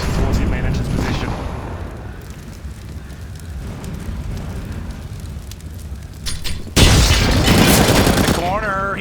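Grenade blast and gunfire from a professional CS:GO match, with a dense rattle of shots under continuous excited commentary and a sudden louder burst near the end.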